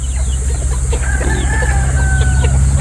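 Gamefowl breeder chickens cluck and call over steady low background hum, with a drawn-out crow-like tone rising midway and continuing, no talking.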